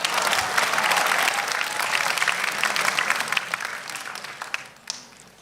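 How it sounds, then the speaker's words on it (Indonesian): A studio audience at a stand-up comedy show applauds loudly and steadily, a dense wash of many hands clapping that tapers off toward the end. "Tepuk tangan boleh teman-teman."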